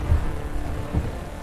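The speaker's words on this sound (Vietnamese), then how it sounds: "Trời mưa lớn quá, đường trơn khiến cho tôi té xuống đám sình lầy." Heavy rain pours in a dense, steady wash of noise with low rumbling swells underneath, loud and continuous with no voices.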